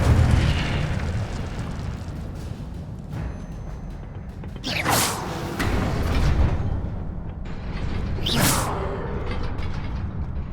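An Incendio fire spell cast in Hogwarts Legacy, heard as two loud whooshing bursts of flame over a rumbling, creaking game ambience.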